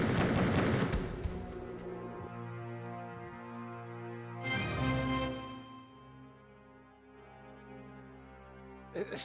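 Heavy booming gunshots from the Martian Gothic: Unification video game, a few loud blasts with long ringing decays, the first burst near the start and another around the middle.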